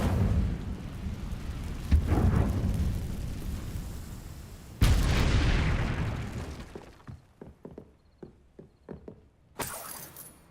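Incendio fire spell cast in Hogwarts Legacy, a deep rumbling roar of flame swelling and fading, followed by a second heavy whoosh and scattered crackling bursts trailing off.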